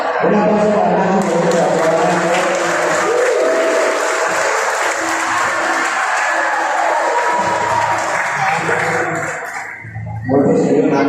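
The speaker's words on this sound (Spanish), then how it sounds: "Un aplauso para Nacho." An aquarium show audience in Mazatlán, Sinaloa breaks into sustained applause with cheers and shouts, a dense wash of clapping close by that dips briefly near the end before swelling again.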